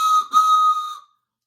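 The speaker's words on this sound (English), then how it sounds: "I've got my train whistle" A toy train whistle blown in one steady shrill tone, briefly broken near the start, then cut off after about a second; close and clear with no talk.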